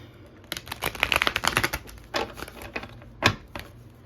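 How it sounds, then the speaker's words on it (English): A deck of tarot cards is shuffled close to the microphone, giving a burst of rapid riffling clicks and flutters followed by a few sharper card slaps, with no talk. "Let's just give it one more good shuffle."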